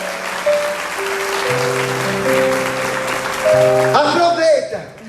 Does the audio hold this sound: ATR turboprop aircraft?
no